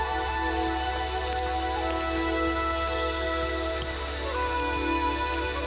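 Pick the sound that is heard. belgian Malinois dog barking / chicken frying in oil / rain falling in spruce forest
rain falling in spruce forest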